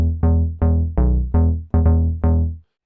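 A deep synth bass patch from the ZebraCM plugin plays seven heavy, booming notes in a steady pattern, each with a bright attack that decays, loud and close with strong low end, ending in silence.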